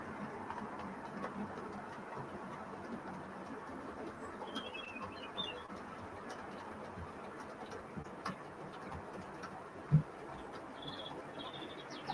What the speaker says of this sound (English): Is the sound of the birds really loud, Brian?